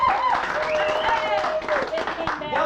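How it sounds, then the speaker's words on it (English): Crowd applause at an improv comedy show, a short burst of clapping from the audience while a performer's voice carries over it. "By round of applause, how many of you have seen Scatterbrains before?"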